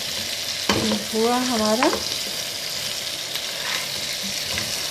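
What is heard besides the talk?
frying and stirring chicken curry masala in a pan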